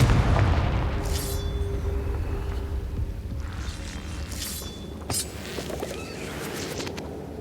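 A Confringo blasting spell in Hogwarts Legacy goes off in a heavy, booming explosion up close, then rumbles away as a few more sharp cracks and bursts follow. No one speaks.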